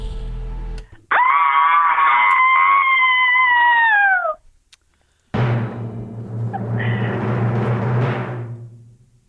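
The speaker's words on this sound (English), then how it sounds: "You are going to give me your most blood-curdling, Halloween-tingling scream." A long, high, wavering scream rings out for about three seconds, a blood-curdling Halloween-style shriek, then after a short pause a rougher, noisier second scream follows, both loud and close with no talk around them.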